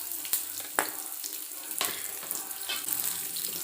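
Onions frying in a pan for onion fried rice, a steady close sizzle with a few sharp clinks and stirring scrapes on top.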